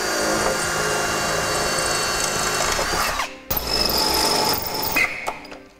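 A power drill whirs loudly and steadily for about three seconds, stops briefly, then bores again in a second burst, drilling a pilot hole while installing a Blue Ox base plate kit on a 2008 vehicle.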